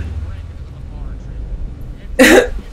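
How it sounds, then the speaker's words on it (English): A single short, sharp sneeze from a character in the Assassin's Creed Syndicate video game bursts out loudly near the end after quiet ambient background. "I'm gonna sneeze."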